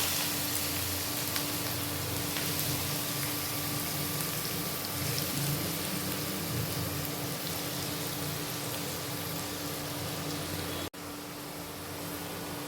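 Bottle gourd peels fry in oil with nigella seeds and a green chili, giving a steady, even sizzle that holds for several seconds before breaking off abruptly and resuming at a slightly lower level.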